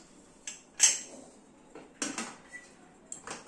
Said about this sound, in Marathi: आता मी कुकरचं झाकण लावते